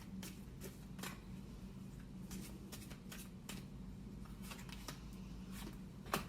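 Tarot deck being shuffled, soft papery riffles and taps coming in scattered bursts over a steady low hum, close but faint, with no voices.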